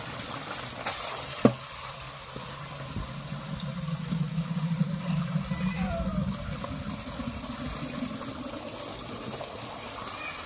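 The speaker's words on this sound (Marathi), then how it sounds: "आज बोरची मोटर चालू केली" A borewell pump motor runs while filling water, giving a steady rushing, gushing flow with a low hum underneath and one sharp knock early on, continuous throughout.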